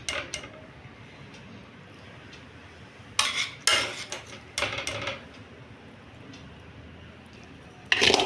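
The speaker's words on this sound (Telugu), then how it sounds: "దీంట్లో ఈ టమాటా గ్రేవీ అంతా వేసేసి కలిపేసుకుందాం" A spoon scrapes and clinks against a pan while cooked, cooled rice is stirred into tomato gravy for tomato rice, giving a few sharp metallic knocks over quiet background, with no talking.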